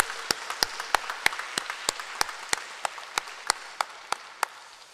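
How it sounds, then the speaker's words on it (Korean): A church congregation gives a round of encouraging applause during a Sunday afternoon service, heard as sparse, distinct individual claps in a loose irregular rhythm, fairly close, with no talk. "다시 한번 우리 힘내시라고 격려의 박수 한번 더 하겠습니다."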